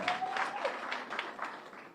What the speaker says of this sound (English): we should applaud ourselves on this one.